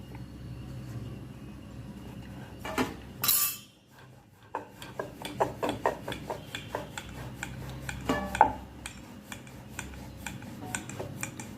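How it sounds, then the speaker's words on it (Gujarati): Barley flour roti rolled out with a rolling pin in a home kitchen, giving a steady series of light, close taps and clicks on the board. A short scraping rush comes early, and there are no voices. "એ દરમિયાન આપણે રોટલી વણવાનું સ્ટાર્ટ કરીશું"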